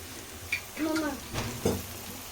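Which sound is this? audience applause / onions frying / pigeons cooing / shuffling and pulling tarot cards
onions frying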